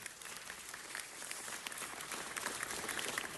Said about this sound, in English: let's give them all a big round of applause right now